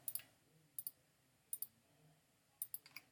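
Computer mouse clicks come in quick pairs and small bursts at a desk while letters are selected for a Cricut design, crisp and close with short pauses between groups.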